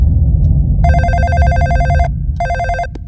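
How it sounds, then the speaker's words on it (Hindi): A telephone bell rings loudly in two trilling bursts, a long ring then a shorter one, over a low rumbling background. "फोन मेरे लिए है।"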